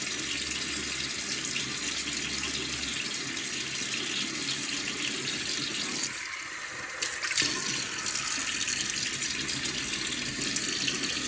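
A bathroom tap runs steadily into a sink as water is warmed for a wet shave, a constant close hiss with a brief change in the flow partway through, and no voices.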